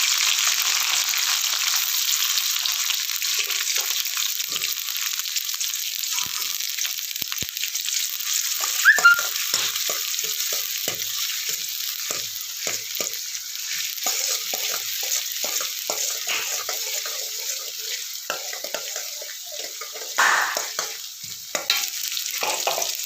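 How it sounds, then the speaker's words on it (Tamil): Onion and garlic sauté in a pan for a dried-fish curry, giving a steady, even sizzle with frequent soft scraping and stirring ticks throughout. "இப்போ வெங்காயம் பூண்டு நல்லா வதங்கிச்சு"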